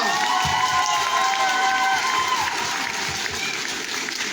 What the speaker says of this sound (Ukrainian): Ваші оплески ще раз артистам.